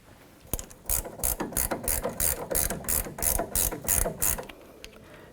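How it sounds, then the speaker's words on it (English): Rapid ratchet wrench clicking in about a dozen quick bursts while working on an outer tie rod end castle nut on a 1984-2001 Jeep Cherokee, close and fairly loud with no talking. "That one is 18mm wrench."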